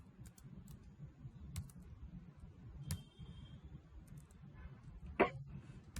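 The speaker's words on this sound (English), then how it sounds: "I'm typing this command." A Linux command is typed on a computer keyboard: scattered, faint key clicks spread unevenly over a low room hum, with one louder tap near the end and no speech.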